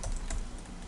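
A computer keyboard clicks in a quick, close burst of a few keystrokes as a user ID is typed in, heard on its own.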